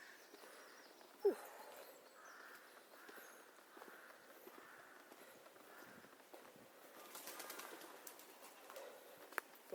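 Pigeons coo and flap near a walkway by a farmhouse in Thornton Le Dale, with soft footsteps throughout, a sharp flutter near the start and busier wing noise toward the end, all fairly faint outdoors.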